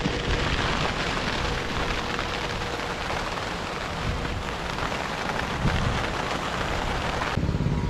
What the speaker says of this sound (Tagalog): So, biglang ulan